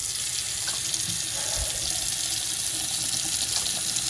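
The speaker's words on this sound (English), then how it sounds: "it looks like it's draining fine now, so I think my slow drain clog is no longer a problem" Water runs steadily from a faucet into a bathroom sink and drains freely after a slow-drain clog is cleared, a constant close rushing and splashing with no voices.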